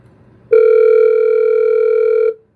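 A single steady electronic telephone tone sounds loudly for about two seconds, then cuts off into silence.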